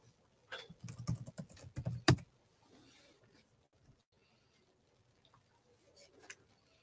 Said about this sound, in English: And I type in YouTube.